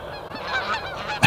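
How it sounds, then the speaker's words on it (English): Canada geese honk as they fly overhead outdoors, a rapid series of nasal calls, moderately loud and clear with no talk. "all the Canadian geese are flying overhead."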